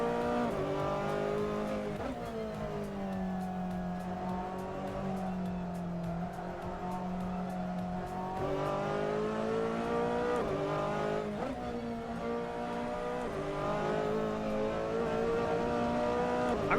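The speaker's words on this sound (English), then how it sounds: "I really like how this Ferrari handles in AC" A Ferrari GT3 race car in Assetto Corsa roars through a race, its engine note rising and dropping with repeated gear shifts and revs, tires squealing now and then, loud and continuous.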